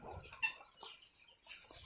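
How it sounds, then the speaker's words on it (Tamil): Chickens on an organic farm cluck faintly in scattered short bursts, with light rustling and outdoor background noise around them. "இங்க பூரா கோழி வச்சிருக்கேன்"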